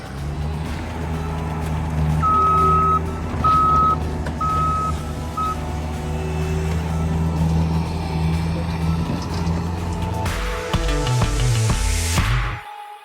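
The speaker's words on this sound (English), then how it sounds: "this stone actually has to be spread out, and that's what's happening now with the Bobcat" A Bobcat spreading stone for a construction entrance rumbles with a steady engine drone, repeated reversing beeps sounding in a regular pattern, then scraping and clattering of stone as it works close by.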